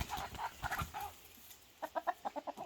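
A rooster gives a series of short clucking calls, a few at first and then a quick rhythmic burst, fairly faint and nearby.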